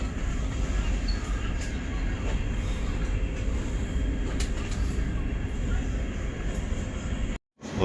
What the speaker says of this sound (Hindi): ये फिर मैं बैठ गया हूँ ट्रेन में, और ट्रेन बस किसी भी लम्हे चलने वाली